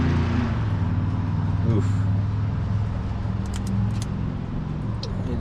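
A 1948 Pontiac straight-eight engine gives a loud, steady, close rumble that holds for several seconds after the ignition is switched on, with a brief voiced exclamation over it.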